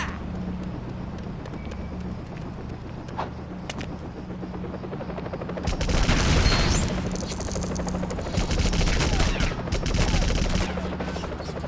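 Enemy bikes firing in a Joker video game, with rapid gunfire bursts over a steady helicopter-like engine drone; the shooting grows loud and dense midway and stays busy until the end, with no talking.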